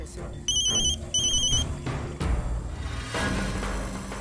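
A phone ringtone chirps in two short electronic bursts, fairly close, with background noise and voices around it.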